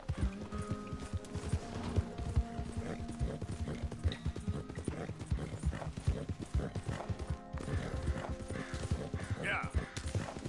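Horse hooves clip-clop in Red Dead Redemption 2, a quick steady trot close by with occasional snorts and a whinny, under someone talking.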